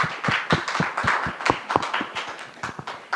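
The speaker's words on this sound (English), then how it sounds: "Please give a round of applause." Audience applause for a panelist at a panel event on undergraduate education and schools: a sparse, uneven patter of claps from a modest crowd, fairly close and steady for a few seconds with no voices.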